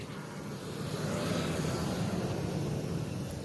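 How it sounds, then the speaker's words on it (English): An airplane passes overhead at night on a city street, a steady broad engine roar that swells slightly and holds at moderate loudness, with no voices. "And that was the sound of an airplane."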